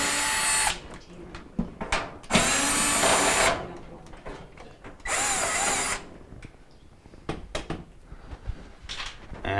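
A power drill backs 5/16 screws out of the front housing of a Maytag dryer in repeated whirring bursts of a few seconds each, close and loud, with clicks and handling noises between them.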